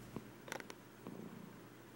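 A cuddled house cat purrs softly and close by, a faint low rumble with a few brief rustling bursts and no talking.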